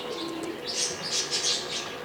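Domestic pigeons flying and calling near the loft give a run of soft chirps and fluttering wingbeats, several quick bursts over a steady outdoor background.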